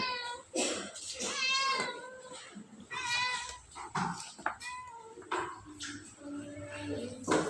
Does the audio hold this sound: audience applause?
no